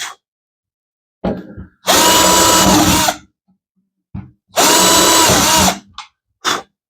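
A power drill with a 1/16-inch bit bores into hardwood in two loud sustained bursts with brief spin-ups and short taps between, close and unaccompanied by talk.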